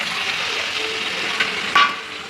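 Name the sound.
vegetables poured into hot pan, sizzling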